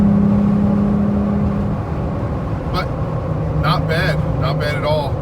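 A 2018+ Jeep Wrangler JL fitted with a Corsa 2.5-inch axle-back exhaust hums steadily while cruising, its engine tone shifting lower as it downshifts, with a voice briefly speaking over the drone.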